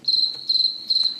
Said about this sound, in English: we should hear your buzzes, Jimmy goes.